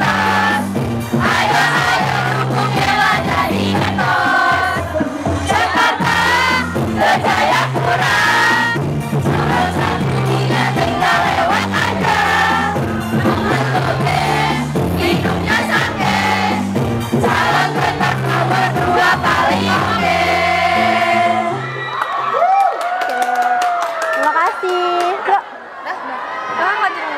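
A large school crowd at a student election event cheers, shouts and whoops for the candidates, a dense, loud, sustained roar with applause throughout, thinning near the end as a voice speaks over it.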